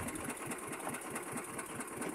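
A boat's engine running steadily, only one of its engines operating, giving a continuous rapid mechanical chugging drone at moderate level with no talk.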